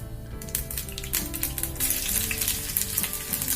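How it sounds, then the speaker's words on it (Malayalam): Mustard seeds crackle and pop with crushed garlic in a hot pan, a dense, steady sizzle with sharp little snaps throughout, close and fairly loud. "ചട്ടി ചൂടായി കഴിഞ്ഞാൽ അതിലേക്ക് 1/2 ടീസ്പൂൺ കടുക് പൊട്ടിക്കഴിഞ്ഞാൽ നേരത്തെ ചതച്ചു വെച്ചിരിക്കുന്ന വെളുത്തുള്ളി ചേർത്ത് കൊടുക്കാം"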